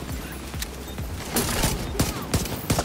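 Gunfire in The Division 2 PvP: bursts of rapid shots and scattered cracks over a busy, noisy game mix, moderately loud with no clear talk.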